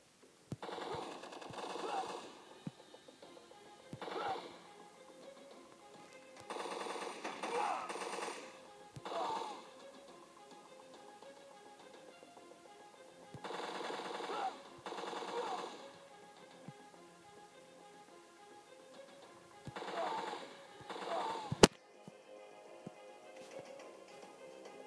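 A machine gun fires in the video game Overkill 2, rapid rattling bursts repeating every few seconds at moderate volume, with one sharper crack near the end.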